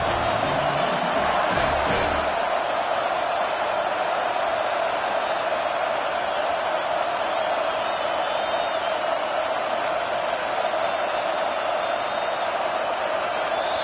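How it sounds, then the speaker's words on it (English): Loud, roaring LSU football stadium crowd on a 4th down play, a sustained wall of cheering and yelling that holds steady throughout, with a brief burst of louder shouts near the start. "This crowd busting the decibel meter and trying to will a 4th down stop"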